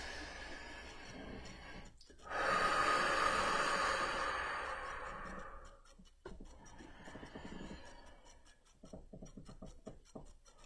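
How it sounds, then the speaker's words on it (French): Three slow, deep breaths during a guided relaxation exercise, airy and close, the first a long loud exhale followed by softer, quieter breathing with faint rustles between. "Je vous invite à prendre 3 grandes respirations profondes."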